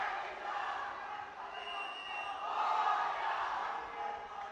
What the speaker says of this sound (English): People cheering at the team.